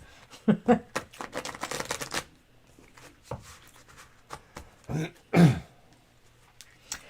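Tarot cards are shuffled in a couple of quick riffling bursts, alongside a cough or throat clearing and brief quiet moments.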